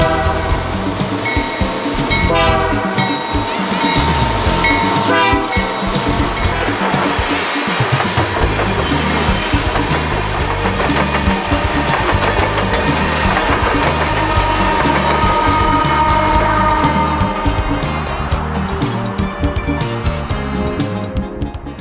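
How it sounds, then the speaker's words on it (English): A loaded coal train with locomotives passes close by in the Canadian mountains near the Selkirk Range, a loud continuous rumble and rolling clatter of wagons with a sustained horn blast early on, no talk. "A loaded coal train heads west."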